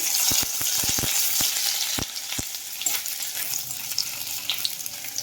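Ginger sizzling as it hits tempered oil in a kadai, a steady loud frying hiss with several sharp clicks of a utensil early on, fading slightly toward the end.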